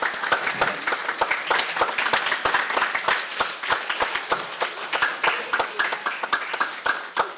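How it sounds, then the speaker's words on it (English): An audience at a Hare Krishna Sunday feast gives Sunday school teachers a round of applause: dense, steady clapping from many hands that carries on for several seconds with no talk over it. "Please give a big round of applause to our Sunday school teachers."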